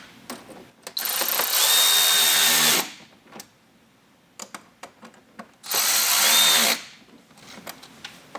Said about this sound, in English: Now we're going to take our T15 Torx, and we're going to snug those down.